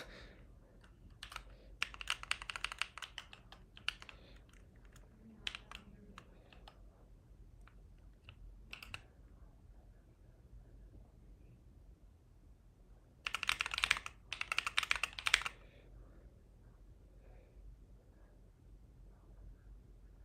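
Typing on a computer keyboard during a live stream, quick bursts of clattering keystrokes in two main flurries separated by quieter pauses with a few isolated clicks, close and fairly soft.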